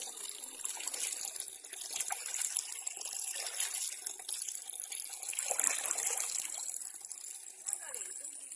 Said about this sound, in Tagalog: Ay, ito ang tubig.